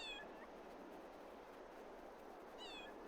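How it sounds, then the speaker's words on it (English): Cats meow in a farm simulation video game: one meow at the start and another near the end, both fairly clear over a steady low background hum, with no talking. "So these are the different cats you'll be getting. Oh, listen to them."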